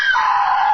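An actor screams during a horror film recording, a single loud, sustained, high shriek that sits close to the microphone and cuts off abruptly with nothing else audible.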